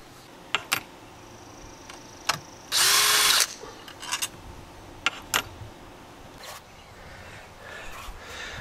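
A power tool takes 10 millimeter bolts off a flooded 1995 Polaris SL650 watercraft, giving one loud sustained whir of about a second amid scattered sharp clicks and ratchety taps, close by with no talking.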